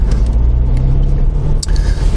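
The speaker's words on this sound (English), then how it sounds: "This is a learner car." A learner car drives past in a street, giving a loud, close, steady engine rumble and road noise that swells slightly, with no talking.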